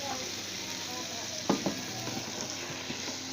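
Grated carrot halwa roasting over a high flame gives a soft, steady sizzle, broken by a couple of quick stirring scrapes midway.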